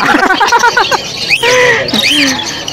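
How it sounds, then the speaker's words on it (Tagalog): African lovebirds chirp close by in a backyard aviary in Malabon, giving sharp, rising squawks and tweets, some repeated quickly, while a person talks over them at the start. "Ngayon lang kayo makakita ng African Lovebirds may eyeliner."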